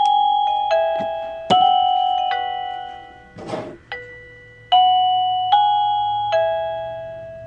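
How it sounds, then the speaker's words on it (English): A wireless electronic doorbell chimes in a repeating melodic pattern of clear tones, each note decaying, with a brief rustling noise partway through. "there are supposed to be 52 different tones and ringtones and chime sounds varying"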